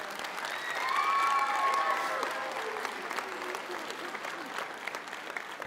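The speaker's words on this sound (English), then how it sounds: "Yes, you should clap for that" Audience applause swells from a crowd, peaking early then settling into a steady patter of clapping.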